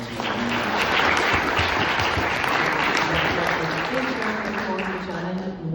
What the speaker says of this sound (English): can we give Shannon a round of applause for volunteering?